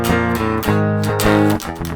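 Electric guitar plays the intro riff of a song in standard tuning with bar chords, a short loud burst of strummed chords with choppy muted breaks between them and no talking.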